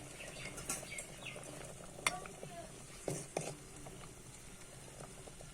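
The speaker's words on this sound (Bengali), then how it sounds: "আলুর ঝোলের মধ্যে আমি এখন ডালের বড়াগুলো দিয়ে দিচ্ছি।" Lentil fritters being added and stirred into a potato curry, with quiet spoon scrapes and pot clinks at irregular intervals over a faint bubbling simmer.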